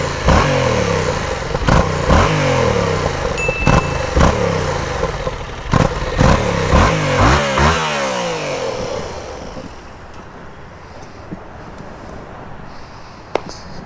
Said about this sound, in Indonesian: kalau kalian mau denger gimana suaranya pakai knalpot standar, nih gue kasih denger sedikit